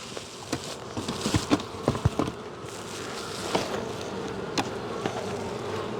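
Bees buzzing steadily around a weak hive during an inspection, a continuous insect drone with scattered louder passes and light knocks and clicks of frames being handled close by.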